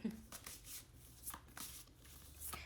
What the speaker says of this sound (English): I'll just kind of shuffle until it feels right.